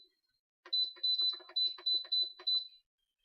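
An Instant Pot pressure cooker gives a rapid run of short, high electronic beeps as its timer is set, clustered in quick pairs over a couple of seconds, close and clear in an otherwise quiet kitchen.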